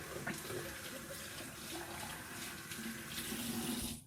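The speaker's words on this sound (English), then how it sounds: "let me wash my hands" Water runs steadily from a tap into a sink while hands are washed, a continuous close splashing hiss with no talk.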